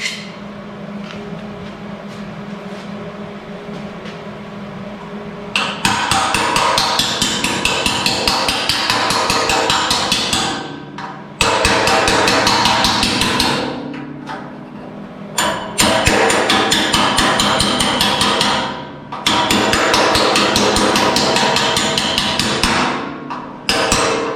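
Loud, rapid hammering on a hard surface in long sustained bursts, separated by short pauses, close to the microphone.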